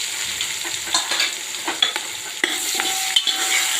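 Chopped onions frying in a pan with ginger, chili, garlic and asafoetida, a continuous bright sizzle broken by scraping clicks and taps from a spoon stirring against the metal, close up with no talking.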